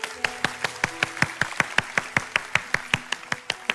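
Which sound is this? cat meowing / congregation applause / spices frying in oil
congregation applause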